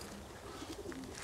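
Homing pigeons coo softly and briefly, low and faint under steady background noise, likely near a parked car.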